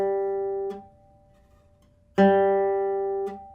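Two ringing classical guitar notes, each stopped by fingertip skin muting the string, leaving only a faint, dull thump instead of a sharp buzz.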